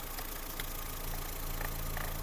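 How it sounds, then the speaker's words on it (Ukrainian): A Ford Fusion with a 1.4 engine idles steadily, giving a quiet, even hum with a faint mechanical ticking and no voices. "Двигун працює гарно, шупа не сапунить"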